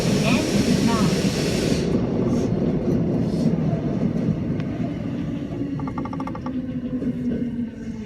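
A Tokyo Metro Namboku Line subway train runs through a tunnel, giving a loud, steady low rumble with rushing wheel and air noise throughout, and a brief chiming tone near the end.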